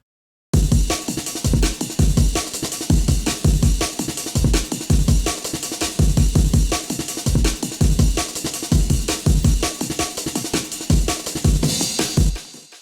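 Punchy 90s jungle-style chopped breakbeat drums in 4/4 hit loud and close in a tight, repeating pattern with crisp snares and heavy kicks, running continuously without any voice.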